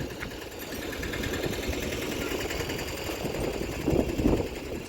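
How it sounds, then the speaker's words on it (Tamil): A Kayamkulam KSRTC interstate bus engine runs steadily and loud throughout, a dense rattling drone with a brief surge near the end. "இது இன்டர்ஸ்டேட்டு, இது காயங்குளம் வண்டி நினைக்கிறேன்"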